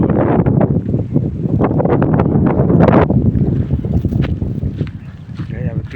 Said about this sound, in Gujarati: ગોમમાં પવન તો જોરદાર છે